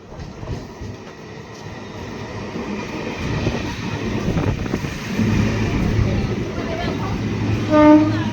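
A suburban train near Kolkata pulls out of Subhashgram station bound for Ballygunge, with a steady loud rumble of wheels and carriages, brief horn-like tones near the end, and some voices mixed in.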